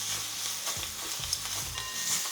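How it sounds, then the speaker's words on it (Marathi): Small eggplants sautéed in oil in a pan, a steady soft sizzle with repeated scraping stir strokes of a spoon, close and fairly quiet, no talking. "एवढ्या याच्यावरच आपण वांगी तेलामध्ये परतून घेणार आहोत."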